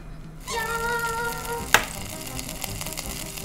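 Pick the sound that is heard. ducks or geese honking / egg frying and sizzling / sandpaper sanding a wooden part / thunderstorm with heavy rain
egg frying and sizzling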